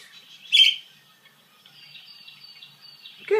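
A pet bird lets out a sharp chirp, then a thin, sustained warbling song, ending with another quick close call; nearby and unaccompanied by speech.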